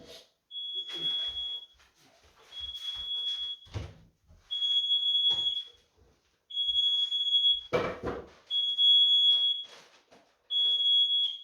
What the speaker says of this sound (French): j'ai l'alarme qui s'allume